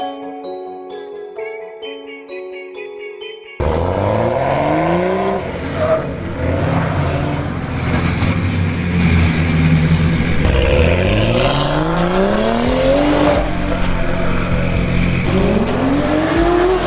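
A BMW 135i with an N55 engine and VRSF catless downpipe revs and drives off, rising and falling engine sweeps climbing through gears, loud and close, with a raspy exhaust note and no speech.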